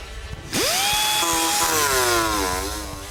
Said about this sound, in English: I'm actually using an angle grinder and a 36 grit cutoff wheel to trim the opening